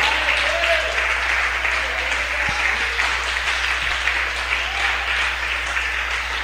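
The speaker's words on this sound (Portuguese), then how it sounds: "vamos aplaudir bem forte a palavra de Deus" A church congregation claps loudly and continuously for the word of God, a dense, steady wash of applause from a large crowd filling the room with a faint voice or two beneath.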